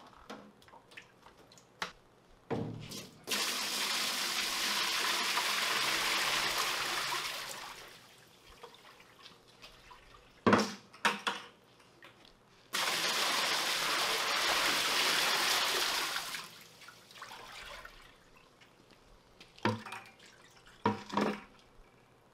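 Coolant is poured from buckets into the coolant tank of a Kia 15LMS turret lathe, making two long, rushing pours of several seconds each, separated and followed by clunks and bucket handling sounds.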